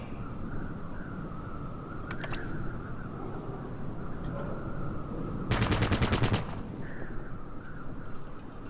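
Gunfire in the turn-based tactics game Fallout Tactics: a dense rapid burst of automatic shots lasts about a second near the middle, with a few faint isolated reports earlier, over a steady low game ambience.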